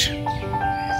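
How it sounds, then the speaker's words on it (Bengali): Birds call in a quiet park in Comilla, a few short whistled chirps and tweets rising and falling against soft background hiss, moderately close, with no talking. "আর চারপাশে কোলাহল মুক্ত পাখির ডাক।"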